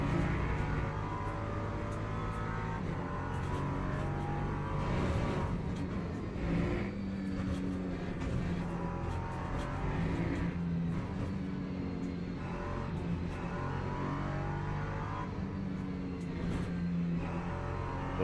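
GT3 and LMP2 race cars in a multiclass racing video game at Circuit of the Americas, engines droning steadily with repeated revving and passes layered over one another, continuous and fairly loud throughout.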